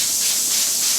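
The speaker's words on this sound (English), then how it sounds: "spray the whole tray down real good" A steady, close hiss of Star San sanitizer sprayed onto a can-filling tray, continuous and bright with no talk.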